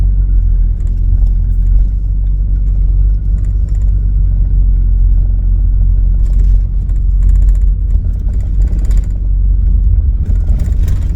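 Inside a camper van driving along the beach on Fanø island, a loud, steady low rumble of engine and tires fills the cabin, with occasional clattering rattles from the vehicle's interior.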